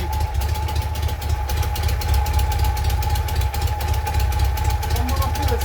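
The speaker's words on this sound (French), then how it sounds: "Même froide, elle tient le ralenti." A cold Chang Jiang 750 motorcycle engine, 32 hp, holds a steady idle: a loud, close, even thumping rumble with a constant hum running through it, and someone speaks over it.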